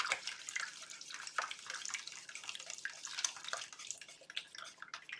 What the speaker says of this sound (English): So I'll use my liquid measure here to pour it right in.